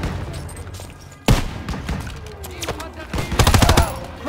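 Game gunfire from Call of Duty WW2 during a stronghold defense: loud, sustained bursts of automatic weapons fire with a sharp blast partway through and denser rapid shots near the end, close and continuous.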